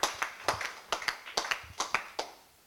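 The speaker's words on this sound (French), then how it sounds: "applaudissons ceux qui ont voté" A handful of scattered hand claps at an award ceremony, the Bullshit Bingo d'Or 2016, greeting those who voted; about nine sharp, uneven claps come quietly and sparsely, with short gaps and no voices.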